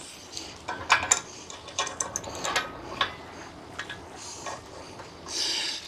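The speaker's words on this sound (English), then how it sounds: "I'm just going to use an adjustable wrench." Adjustable wrench turning M22 bolts on a Harbor Freight 2-ton engine hoist during shop assembly, giving a run of quiet, irregular metallic clicks and ratchet-like ticks close by, with no talking.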